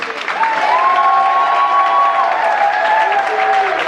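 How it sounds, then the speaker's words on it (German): A concert audience at a charity gala breaks into loud, sustained applause with cheering, a dense roar of clapping that swells and holds steady, with a faint tone ringing over it. "Richtig, donnernden Applaus des heutigen Abends und der gehört genau ihm, dem David, und der kommt jetzt!"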